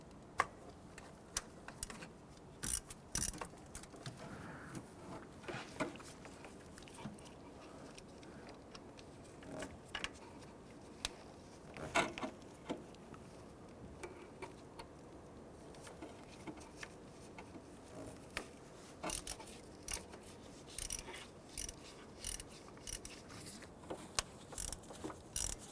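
Ratchet driving a T27 Torx bit to remove three screws beneath the battery area of a 2006-2013 Chevrolet Impala, giving close, scattered clicks and ticks with short bursts of rapid ratcheting, no talking.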